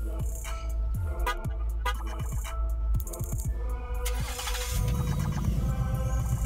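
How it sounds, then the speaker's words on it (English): A 2018 Ford Mustang GT 5.0 cranks with clicking rattles and then fires up via remote start, settling into a deep, rumbling idle for the last couple of seconds. "the remote start works very well"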